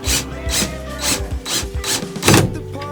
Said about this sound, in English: Now I just have to screw in the top.